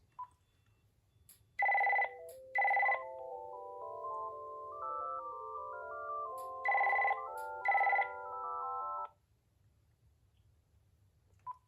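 A Uniden TRU9485 PBX extension telephone rings in two double-burst electronic trills, loud and close in a quiet room, with a melodic warbling tone running between the bursts.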